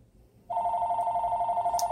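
A telephone rings in a home kitchen, a loud, steady electronic tone that starts abruptly after a quiet moment and holds without a break.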